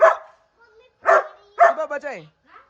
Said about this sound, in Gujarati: ચલો કેટલો લોયલ ડોગ છે મારો